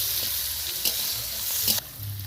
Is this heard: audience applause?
no